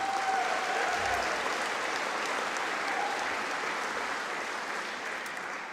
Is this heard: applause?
yes